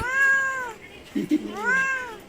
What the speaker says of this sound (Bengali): এই যে লিটুর বিড়াল এর নাম হলো মিনু